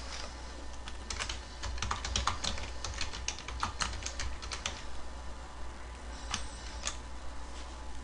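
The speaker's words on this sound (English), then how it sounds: "Type in a note" Typing on a computer keyboard to enter a short note, a run of quick, uneven clicking keystrokes up close, pausing briefly before a few final taps, over faint steady room hum.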